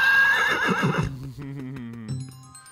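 A horse neighs in a loud, wavering whinny from a comedic video game, followed by a few hollow clip-clop footsteps and faint game sounds.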